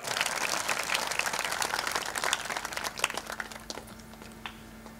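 Worship congregation clapping during a church service, a dense round of hand claps that thins out and fades toward the end, leaving scattered claps.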